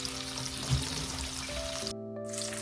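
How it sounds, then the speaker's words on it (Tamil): Potatoes fry in a pan with a soft, steady sizzle and crackle, fairly faint, with a brief clatter near the end and a low background hum. "பொட்டேட்டோவும் நல்லா ரோஸ்ட் ஆகிட்டுருக்குங்க"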